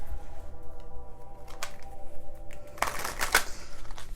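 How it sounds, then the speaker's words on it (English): Tarot cards shuffled and slid across a table in a few close, soft papery bursts, with quiet pauses between handlings and no voice. "Let me move the cards out the way."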